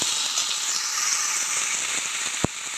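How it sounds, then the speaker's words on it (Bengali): Vegetables sizzling in a pan with panch phoron, salt and turmeric, a steady bright hiss of frying held throughout with one sharp clink near the end, no talk. "এখন আমি সবজিটা ঢেলে দেবো। একটু লবণ দিয়ে দেবো, একটু হলুদ দিয়ে দিলাম। সবজিটা ভালো করে ভেজে নেব।"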